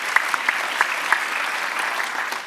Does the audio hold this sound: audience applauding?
yes